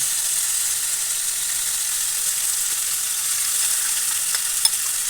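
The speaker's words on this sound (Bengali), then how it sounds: "আদা বাটা, পেঁয়াজ বাটা পরিমাণ মতো দিয়ে তারপর এর সাথে নারকেলের দুধটুকু দিয়ে" Prawn malai curry base of ginger paste, onion paste and coconut milk sizzles steadily in a pan, a continuous close frying hiss with faint occasional crackles and one small clink near the end.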